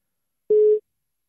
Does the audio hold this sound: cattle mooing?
no